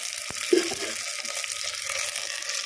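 Mutton chops and boneless pieces frying in oil for a Sunday mutton curry give a steady low sizzle and hiss, with one soft clink of a utensil near the start.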